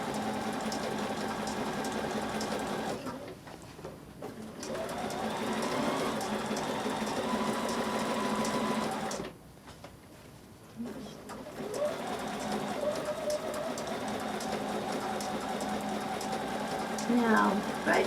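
A sewing machine stitches a zigzag quilt pattern in long, steady whirring runs, pausing twice briefly before resuming, with soft bird cooing in the background.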